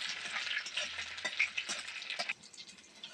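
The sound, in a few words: stirring whole garlic cloves frying in a pan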